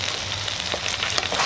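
Sicilian caponata vegetables frying in a pan and being mixed, giving a dense, continuous close sizzle with a few soft stirring scrapes, fairly loud.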